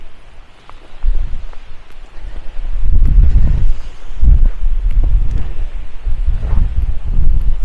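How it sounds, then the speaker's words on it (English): Strong gusting wind from the tail end of a hurricane buffets the microphone on a wet hiking trail at Tablelands, Newfoundland, rising and falling in loud rumbling surges with no voices. "These winds are the tail end of the hurricane that passed up through the Atlantic."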